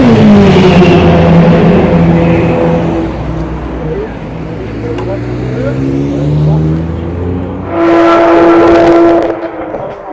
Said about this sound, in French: cette Ferrari 488 avec cet aileron magistral derrière qui se prépare au départ